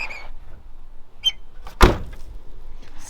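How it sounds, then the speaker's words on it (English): Door of an abandoned old big-block Buick car shutting with one solid thunk near the middle, surrounded by quiet faint background noise. "just listen to this door"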